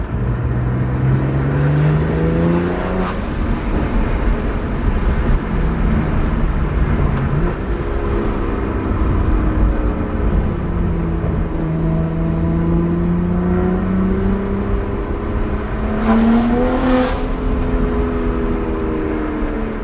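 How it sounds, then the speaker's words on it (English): A BMW 1M's engine and exhaust drone steadily while driving, the pitch rising and falling with acceleration, heard from inside the car under road noise. "You can hear the exhaust a little bit."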